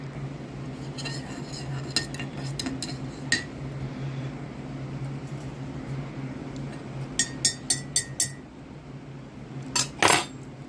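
Metal knife clinking against a coffee cup as protein powder is stirred in, a loose series of light taps and scrapes, with a few sharper clinks clustered near the end, close and fairly quiet over a steady low room hum.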